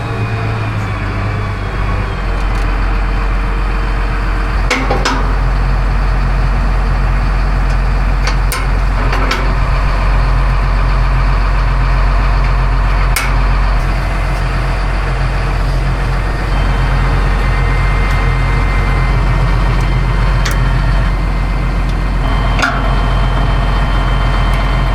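A bigger farm tractor's engine idles loudly and steadily up close, a constant diesel rumble with occasional clanks.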